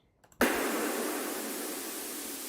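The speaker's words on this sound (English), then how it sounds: "white noise," A white noise sample from a liquid drum and bass project in FL Studio bursts in abruptly after a brief near-silence, then holds as a loud, steady broadband hiss that eases slightly toward the end.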